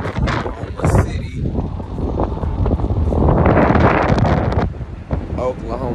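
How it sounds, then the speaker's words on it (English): Strong gusts buffet the microphone outdoors on a road trip in Oklahoma City, loud rumbling wind noise that surges and fades, with someone speaking at times beneath it. "It's super windy"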